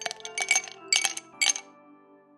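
Ice cubes are dropped into a glass in four quick bright clinks with a rattle between them, close and alone, ringing briefly before fading.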